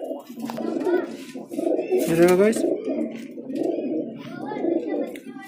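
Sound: pigeons cooing

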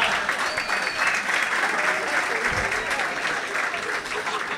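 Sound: audience applause at comedy show

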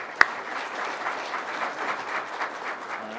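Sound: audience applause for speaker Matthew

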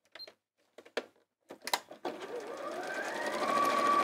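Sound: sewing machine stitching around the edge of a cushion

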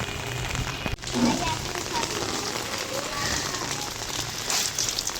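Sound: heavy rain

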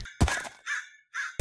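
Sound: crow cawing in a video game

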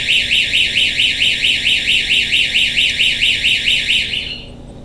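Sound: LifeSmart door sensor alarm system sounding

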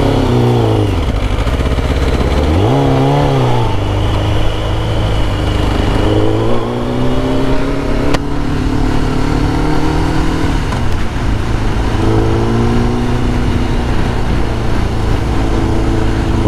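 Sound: Kawasaki ZX9R motorcycle engine while riding

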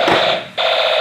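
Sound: toy police car siren

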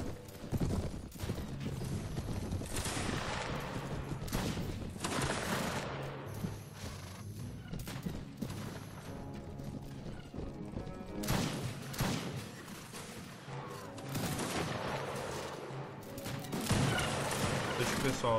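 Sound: musket gunfire in a battle, from video game 16th Century

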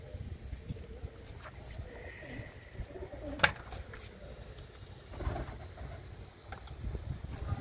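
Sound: pigeons cooing

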